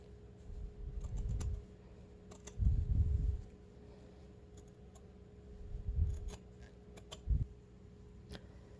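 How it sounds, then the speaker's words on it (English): Scissors cut through fabric for a Viking hood in several close, soft snipping bursts, separated by quieter moments with faint clicks. "Now I'm going to go up to my pin. And now from here I'm going to cut down to this pin."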